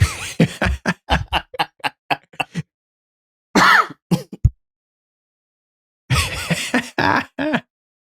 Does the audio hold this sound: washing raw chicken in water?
no